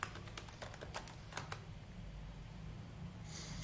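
Keystrokes on a computer keyboard as terminal commands are entered on an Ubuntu server, a quick burst of separate clicks early on, then quieter over a low steady hum.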